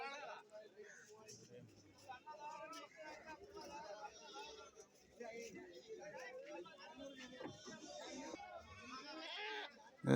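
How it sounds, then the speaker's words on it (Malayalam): Goats bleat intermittently at a busy goat market in Kilimanoor, Kerala, amid crowd chatter and someone talking nearby, the bleats mid-distance and fairly faint. "വലിയ ആടുകൾ ഇതായി ഭാഗത്ത് നിൽപ്പുണ്ട്"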